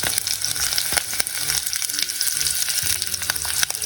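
Vegetable biryani ingredients cook vigorously in a pressure cooker, making a loud close bubbling sizzle with scattered clicks and pops running throughout, with no talking.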